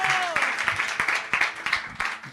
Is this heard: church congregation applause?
yes